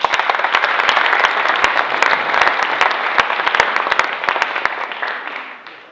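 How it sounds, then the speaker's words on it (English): An audience at a speech event gives a hearty round of applause, a dense roar of clapping with sharp individual claps standing out close by, holding strong before fading away at the end. "Give yourselves a round of applause"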